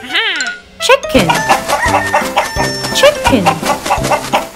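Chicken clucking and crowing within a children's animal quiz game, loud and close over bouncy music with speech nearby.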